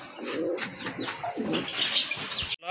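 A pair of blue satin pigeons coos in low, throaty bursts amid rustling and a little wing flapping, close and moderately loud, cutting off abruptly at the end.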